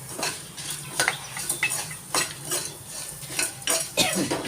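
Onion and garlic being fried in a pan for a sagu dish, with a spoon clinking and scraping against the metal in repeated strokes over a soft, low sizzle, close and without talk.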